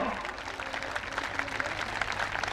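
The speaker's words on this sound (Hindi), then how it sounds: "अब तालियां बजा सकते हैं, अब तालियां बजा सकते हो।" A crowd claps steadily in sustained applause that fills the whole moment, with no pauses.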